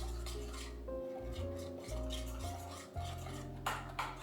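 A spoon stirs almond butter into thick vegan, gluten-free brownie batter in a bowl, giving soft, faint scraping and dull knocks against the bowl over a steady low hum.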